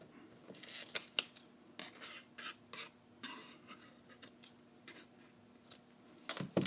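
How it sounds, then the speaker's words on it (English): Sharp scissor snips trim the paper edges of a handmade Stampin' Up! birthday card, several crisp cuts spaced irregularly and heard up close in a quiet room with no speech. "And then I'll trim these edges so that it's not hanging too low."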